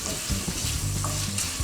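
Bacon browns in a pan for refried beans with a loud, continuous crackling sizzle, heard up close and alone with no talk.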